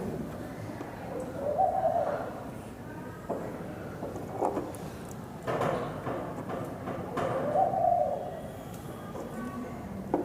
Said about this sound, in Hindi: कोई पक्षी बोल रहा है क्या?